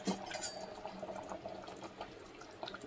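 A vegetable pulao masala mixture bubbles and simmers in a pot, a soft, uneven gurgling and popping heard close up at low level, with a faint clink of a utensil.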